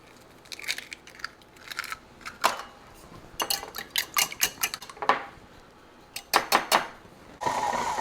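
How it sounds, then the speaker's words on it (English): Three eggs being beaten in a bowl for Southern hummingbird muffins, heard as bursts of quick whisking clicks against the bowl, loud and close, broken by short pauses, with no talking. "We're going to beat up 3 eggs."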